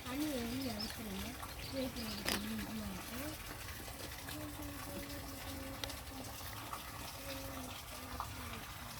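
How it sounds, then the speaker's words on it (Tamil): Water is pushed out through a hole punched in a container of soaked waste paper, a faint, continuous gushing heard softly in the background under a nearby voice. "ஹரிஷுங்களா, இந்த மாதிரி நிறைய தண்ணி வந்துச்சு, என்னால் பண்ண முடியலன்னா இங்கே ஒரு ஹோல் போட்டு தண்ணி வெளியே அடிக்கிறேங்க"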